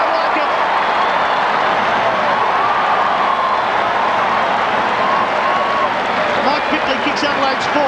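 Stadium crowd at a 1997 AFL match between Adelaide Crows and West Coast Eagles roars and applauds a goal, a steady, dense wash of cheering and clapping filling the whole stretch.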